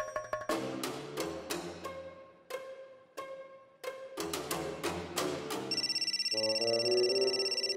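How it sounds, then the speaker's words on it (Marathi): A telephone rings in a domestic TV drama scene, a short repeating electronic ring pulsing near the end after dramatic music stings. "हे बघ, परत भानूच्या फोनवरून फोन आलाय."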